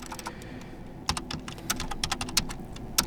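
Keystrokes on a computer keyboard as a sudo systemctl restart command is typed: a run of sharp, close clicks at an uneven pace, some louder taps standing out, with no talking.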